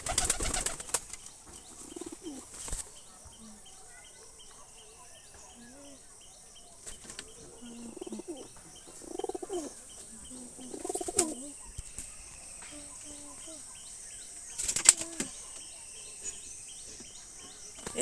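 A Giribaj pigeon with a taped wing and an eye problem gives several short, soft bursts of wing flapping indoors, with faint low coos and rustles between them.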